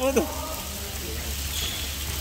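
Steady rain patters on a surface during an outdoor ball game, a soft even hiss that continues throughout, with a brief voice calling out near the start.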